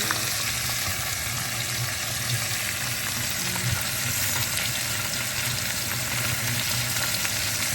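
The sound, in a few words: steak searing in butter in a pan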